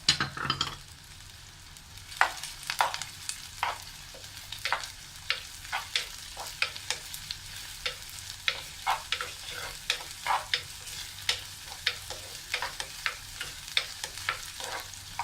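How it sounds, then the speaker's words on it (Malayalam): Ginger, green chili and curry leaves sautéing in a pan for squid roast, with an ongoing oily sizzle punctuated by regular scraping strokes of a spatula, close and clear with no talking. "ഇനി ഇതൊരു ലൈറ്റ് ബ്രൗൺ കളർ ആവുന്ന വരെ നമുക്കൊന്ന് വഴറ്റി കൊടുക്കാം."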